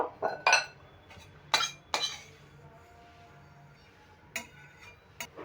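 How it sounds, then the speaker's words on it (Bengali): Lightly roasted fennel seeds are pounded in a mortar and pestle for gur pitha, producing a few sharp, close knocks and clinks separated by quiet pauses. "মৌরিটা আমি একটু এরকম হামাল দিস্তিতে করে একটু থেতে করে নেব"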